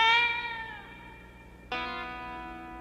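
A cat meows twice in the Sesame Street film Don't Eat the Pictures, each a long tonal cry that fades out, the second starting sharply after a brief pause, with no talking.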